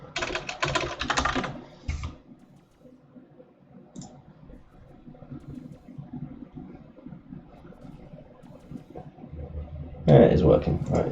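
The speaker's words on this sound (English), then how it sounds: "Incoming keyboard noise." Bursts of keyboard typing at the start and again at the end, with a quieter stretch of faint clicks and background murmur between.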